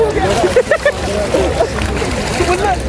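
Splashing sea water at a beach as people jump in, with sloshing and splatters over steady surf noise while voices talk and shout nearby.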